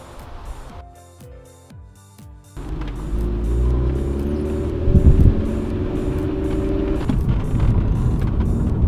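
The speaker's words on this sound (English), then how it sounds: "you're able just to cruise down a lovely road like this" A restored 1995 BMW E36 M3 saloon cruising along a road, its engine rising from a quieter start into a steady, full drone with a swell of acceleration, close inside the car, no speech.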